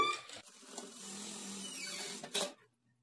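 A sewing machine whirs steadily while stitching a dart on a work blouse, one continuous run of about two seconds that starts and stops abruptly, close and fairly quiet, with no talking.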